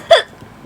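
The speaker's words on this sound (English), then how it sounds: "Now I have the hiccups" A single sharp hiccup, close and fairly loud, followed by quiet breathy room sound.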